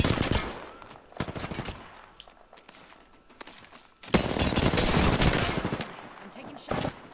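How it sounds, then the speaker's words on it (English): Video game gunfire in a squad battle: bursts of rapid automatic fire and single shots, loud and close, with a long sustained volley mid-clip and quieter shots between. "I'm taking shots."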